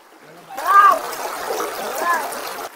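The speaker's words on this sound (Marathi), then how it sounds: "तुम्ही बघू शकता पाण्याचा स्पीड बघा" Fast river water rushes over rocks near Khed in Ratnagiri, a steady broadband wash of splashing and gurgling that continues alone for most of the clip after a quiet start.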